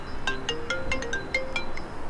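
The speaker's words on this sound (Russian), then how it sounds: "Телефон, но мы его выключим." A phone ringtone plays a quick, bright melody of short repeated electronic notes, fairly quiet, over low background noise.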